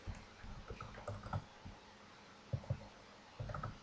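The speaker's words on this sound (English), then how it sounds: "Nope, so we're just going to type it in there." Computer keyboard keys clatter in short irregular bursts of quiet, close clicks with brief pauses between them, no voices.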